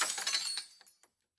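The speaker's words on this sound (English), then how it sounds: "The bottle shattered against the back of their head." A wine bottle smashes, a sharp burst of breaking glass followed by a few scattered tinkling fragments settling, then silence.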